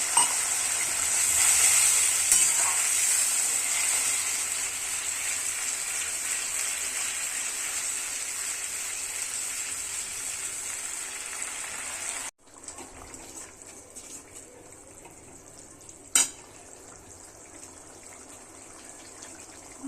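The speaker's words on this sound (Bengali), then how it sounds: "একটু গ্রেভি করবো, তো তার জন্য একটু জল দিয়ে দিচ্ছি" Water poured into a pan of frying Surmai fish curry gravy, a loud steady sizzle and hiss that suddenly cuts off and then drops to a quieter simmer, with one sharp clink near the end.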